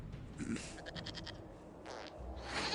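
Goat bleating in Dragon Age Inquisition, a short run of quavering bleats near the middle followed by another brief bleat, set against low ambient game sound.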